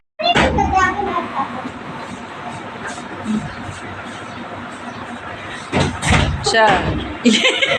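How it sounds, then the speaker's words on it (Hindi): A house door is slammed shut several times, with sharp bangs near the start and a quick cluster toward the end, amid children and adults talking. "स्टाइल बना बना के दरवाज़ा बंद कर रहा था"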